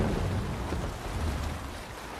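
Sailing ship moving over ocean waves in Assassin's Creed Valhalla, a steady broadband wash of water and wind with no distinct events, fairly loud and continuous throughout.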